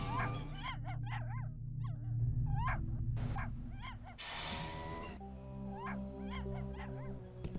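A puppy in a video game yips and whimpers in a string of short, high barks, some paired, interrupted by a brief noisy burst, over a low humming game backdrop.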